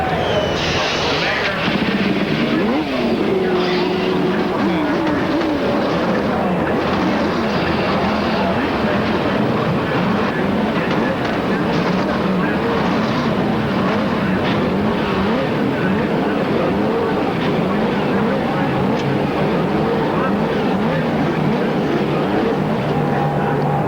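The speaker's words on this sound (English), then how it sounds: "the engines are fired into life" IndyCar racing engines fire up together on an overcast race day at the 1992 Detroit Grand Prix, a loud, sustained roar of many cars revving and idling close by with a commentator talking over it.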